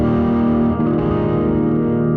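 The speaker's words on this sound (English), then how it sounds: "Now on the 11 Ampeg SVT 810, now this is a bass cabinet, but you're going to hear it through guitars" Distorted electric guitar chords played through an impulse response of an Ampeg SVT 810 bass cabinet, sounding thick and heavy; a loud, sustained wall of saturated tone with no talking.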